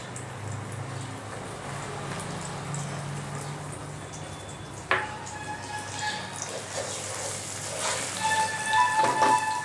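A radhuni and ginger spice paste for Bengali tel koi fries in a pan. A steady, close sizzle with crackles and spits runs throughout and grows busier near the end. No one speaks.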